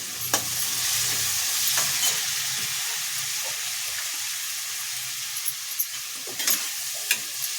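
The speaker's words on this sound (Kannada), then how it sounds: "ಈರುಳ್ಳಿ ಎಲ್ಲ ಚೆನ್ನಾಗಿ ಫ್ರೈ ಆಗಬೇಕು" Chopped onions fry and sizzle in a pan for onion chitranna, a lemon rice dish. A steady hiss runs throughout, with occasional scraping clicks of stirring near the end.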